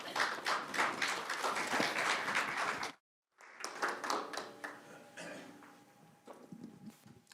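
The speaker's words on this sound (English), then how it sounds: "A round of applause as we welcome him." An audience claps to welcome a speaker at a talk on opinion writing. The scattered, moderately loud clapping breaks off into a brief silence, then resumes and tails away.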